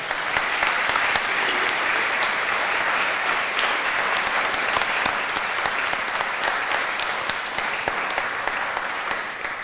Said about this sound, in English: I'd like to invite everyone to give a special round of applause to all our graduates here and